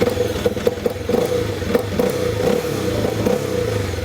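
Arctic Cat Alterra 600 ATV with a 600cc, 45-horsepower single-cylinder engine idles with a steady low rumble and clatter, blipping into short revs at close range with no talking.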